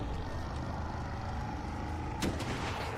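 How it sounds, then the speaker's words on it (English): An enemy fires rockets in a video game: a continuous rumbling barrage of blasts under game noise, with a sharper burst near the end. "I didn't know she'd still shoot rockets"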